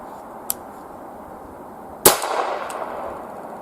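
A single 300 BLK subsonic rifle shot lands near the middle of the clip, a sharp crack that decays into a short echoing tail. A fainter click comes earlier and a small tick follows after. No one speaks.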